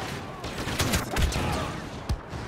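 Blaster fire in the Star Wars Battlefront drop zone mode crackles in quick sharp bursts, several zapping shots in close succession over busy game noise, with one louder report near the end.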